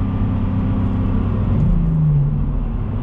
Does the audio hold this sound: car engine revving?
yes